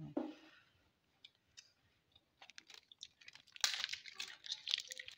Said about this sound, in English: at the end, I'll just use scissors to trim off all these ones